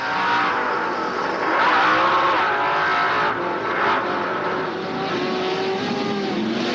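A Pro 4 off-road racing truck engine screams at high revs at Chula Vista, hitting the rev limiter, loud and sustained, with pitch wavering as it holds near the limit, accompanied by faint tire noise.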